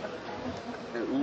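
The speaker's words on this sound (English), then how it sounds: "it's like the bees are relatively calm, so it sounds like when you open a hive" Steady buzzing of a hive of calm honeybees at a honey festival, a low drone that swells slightly louder toward the end, with faint voices mixed in.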